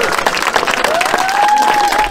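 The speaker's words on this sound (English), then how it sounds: "Everyone give a round of applause" An outdoor crowd at a picnic gathering in Hyde Park, Leeds, claps steadily for a doctor about to speak, a dense patter throughout with voices mixed in and a thin sustained tone rising above it.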